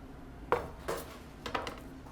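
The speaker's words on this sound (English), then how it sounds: "I'm going to dump this out into what's called a 2-inch hotel pan" Tomato soup tipped into a 2-inch hotel pan in a cafe kitchen gives a few separate clanks and scrapes of metal on metal, spaced across a couple of seconds over a quiet room.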